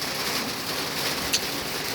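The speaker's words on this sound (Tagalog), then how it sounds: "Aba, at bakit ang ulan naman ay ganyan lang?" Light rain falls steadily as a soft, even hiss outdoors on a farm with banana and chili plantings, with one faint tick partway through and no voices.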